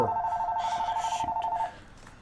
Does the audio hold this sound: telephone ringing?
yes